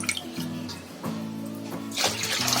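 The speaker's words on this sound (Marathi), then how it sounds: "त्या टोपात मध्ये आपल्याला पाणी घ्यायचं आहे 3 डबे" Water pours and splashes into a pot, three tinfuls for grinding rice, in a few bursts, running steadily, then getting louder toward the end.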